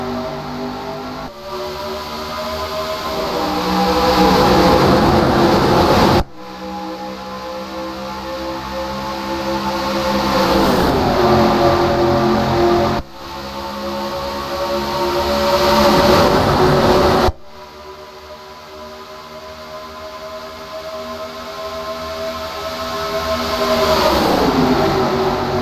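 Race car engines roar at the green-flag start at Michigan in an MG Cup Series video game, loud rising whines building in repeated waves with shifting pitch, the cars close and dominating, no talk.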